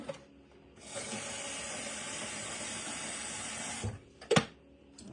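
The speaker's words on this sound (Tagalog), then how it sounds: "lalagyan pa natin siya ng tubig" Water pours steadily into a cooking pot over a stove flame for about three seconds as a smooth, even hiss, followed by a brief clunk and clatter of the pot.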